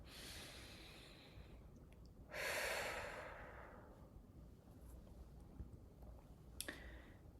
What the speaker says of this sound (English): Take a deep breath in and slowly breathe out.